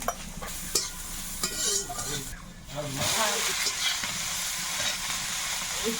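Dried shrimp frying slowly in a pan, a continuous sizzling hiss with spatula stirring and scraping, a few clinks early on, and brief talk partway through.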